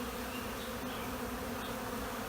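Honey bees buzz steadily around a hive as they forage for nectar and pollen, a dense, continuous drone of many wings close by with no voices.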